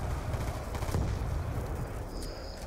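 Gunfire crackles in Call of Duty Black Ops Zombies, a dense run of shots blending with steady game noise, loud and close throughout.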